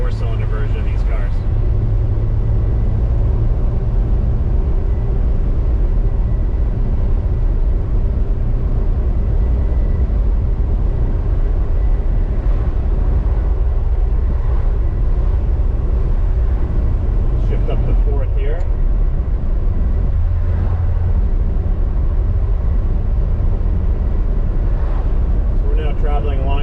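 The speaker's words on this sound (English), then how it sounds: "And of course that 6-cylinder sound, so satisfying compared to the 4-cylinder version of these cars." A 1968 MG C GT with a six-cylinder engine cruises at steady speed in fourth gear, giving a continuous low drone mixed with road and wind noise throughout.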